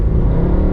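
A loud Mercedes C63 AMG engine revs and pulls hard, close up, with a deep, throaty rumble throughout.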